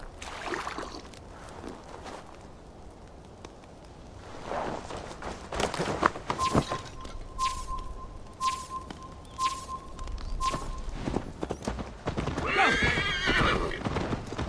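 Horse hooves clip-clop steadily while the horse neighs and whinnies in Assassin's Creed Valhalla, set against outdoor game ambience and a brief sustained tone in the middle.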